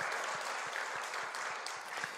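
A church congregation claps together in thanks for an elder during a Korean Methodist service, a dense, steady wash of many hands close by that holds an even level throughout.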